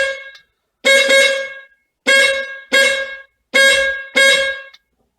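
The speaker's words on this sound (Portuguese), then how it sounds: "Então essa é a buzina." A Volkswagen Beetle's horn honks five times in short, loud blasts, with brief pauses between them and quiet in between, the nasal tone close and clear.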